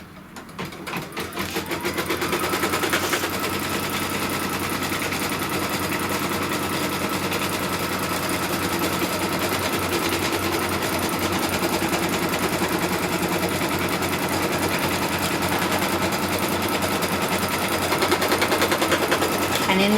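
Embroidery machine stitching a tack-down line through green fabric for a pin cushion, a steady, fast mechanical chatter that starts up and runs continuously and close.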